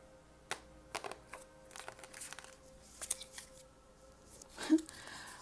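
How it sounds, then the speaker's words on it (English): Affirmation cards being cut and shuffled by hand, a few quiet papery riffles and soft slides with one sharper snap of the deck near the end, close and faint in a quiet room. "Let me just cut the deck."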